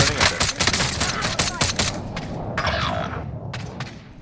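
Rapid bursts of automatic gunfire with thumps and booms from a Call of Duty Warzone match, loud and dense at first, then easing into a lower, continuous rumble of distant shooting.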